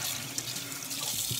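Tap water runs steadily into a basin for wetting hair during a wash routine, a close, continuous splashing flow with small gurgles and no voices.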